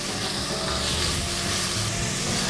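Leeks sautéing over medium heat in a pan give a steady, close, dense sizzle with no pauses and no voices.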